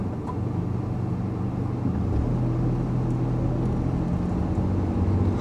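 A Honda N-WGN Custom kei car accelerates from a standstill toward 30 km/h under adaptive cruise control, heard from inside as a steady low engine and road rumble without speech.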